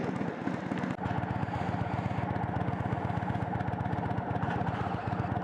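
A 2021 Indian Roadmaster Limited motorcycle engine idles steadily up close, its low, even pulsing beat holding throughout with one brief dip near the start.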